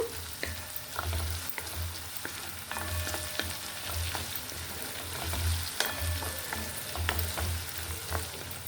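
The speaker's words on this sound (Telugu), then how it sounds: "కొంచెం బాగా వేయించుకోవాలండి అల్లం తేమ లేకుండా చూసుకోవాలి" Ginger for chutney fries steadily in a pan, a constant close sizzle with scattered stirring scrapes and clinks, and no voices.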